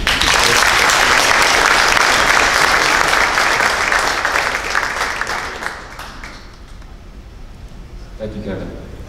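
Loud, dense applause from a conference keynote crowd fills the first half, then fades to scattered clapping as a voice begins speaking near the end.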